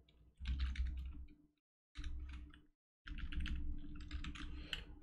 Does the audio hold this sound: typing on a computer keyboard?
yes